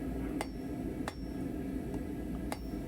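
A blacksmith's hammer strikes hot steel while forging a sharp square taper for a spade hook, giving four distinct ringing blows spaced under a second apart over a low background hum.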